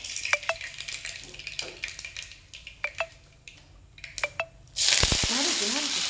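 Shallots, curry leaves, ginger and garlic go into a pan for fish curry, with scattered clinks and stirring scrapes before a loud, steady sizzle bursts up as the ingredients hit the hot oil.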